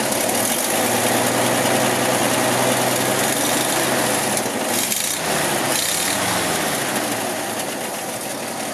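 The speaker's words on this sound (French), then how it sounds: "Voilà, bon vieux moteur," A 1952 Ford panel truck's old engine with a Holley carburetor idles steadily and close by, a continuous low rumble that runs alone and eases slightly toward the end.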